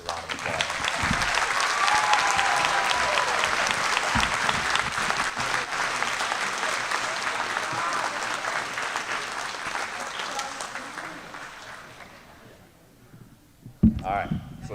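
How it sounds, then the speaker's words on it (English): Audience applause at an 8th grade promotion ceremony for Cuyahoga Heights students, a long sustained burst of clapping from a crowd that holds steady for about twelve seconds, then fades out, followed by a brief sharp knock. "let's give our newest high school students a round of applause"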